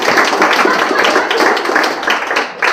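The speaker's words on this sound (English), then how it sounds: "All right, big applause for Thiago." An audience at a tech community panel on diversity gives a panelist a burst of close, loud, dense hand clapping that lasts the whole stretch.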